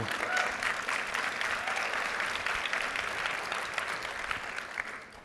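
Applause from a keynote audience at an education conference, moderately distant and steady, a wash of many hands clapping that tapers slightly toward the end.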